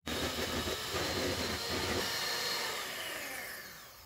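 An electric mixer whirs steadily through carrot cake batter for a gluten-free rocambole, a loud, dense, continuous drone that gradually eases off toward the end.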